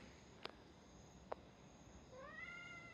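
A cat gives a short, rising meow near the end, preceded by two faint clicks, in a quiet indoor setting with no talking.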